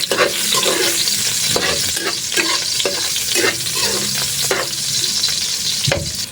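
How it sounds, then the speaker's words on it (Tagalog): Onions sauté in hot oil in a pan for a fish-head sinigang, a loud, dense sizzle and crackle with repeated stirring scrapes throughout. "Sabay na natin yung sibuyas"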